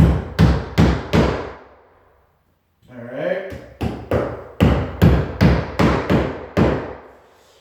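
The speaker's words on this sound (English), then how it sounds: "when I'm hammering these in, I want to go right in that same stud" Hammer blows driving trim nails into a wall stud, a steady run of sharp close strikes in two bursts separated by a brief pause with a short spoken remark.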